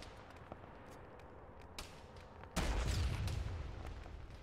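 Anti-tank rocket striking an MRAP armored vehicle in a military video game: faint distant pops and scattered gunfire, then one sudden heavy blast that rumbles and fades slowly.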